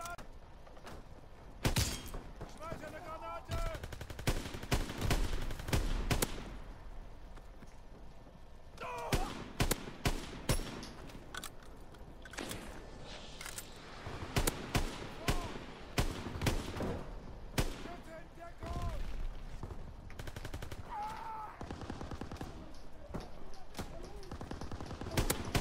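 Gunfire from a zombies-mode shooter game, sharp shots and bursts scattered irregularly throughout, loud and close, with excited talking over much of it.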